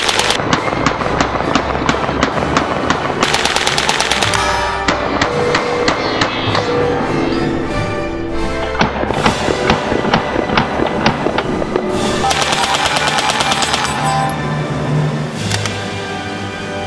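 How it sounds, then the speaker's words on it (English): A Sten Mark II submachine gun fires rapid automatic bursts, loud and close, the sharp reports coming in dense rhythmic strings separated by short pauses. "Today we're going to be checking out one of history's favorite submachine guns. This is the Sten Mark II"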